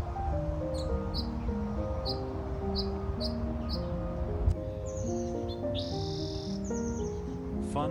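Several birds chatter and call continuously, close and lively, with repeated high chirps and overlapping tonal whistles throughout, scouting a future nesting site.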